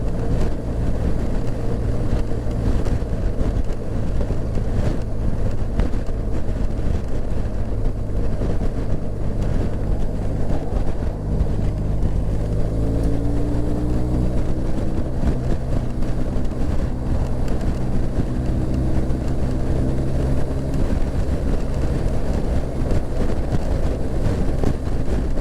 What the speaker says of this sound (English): it gets really windy on this bypass as well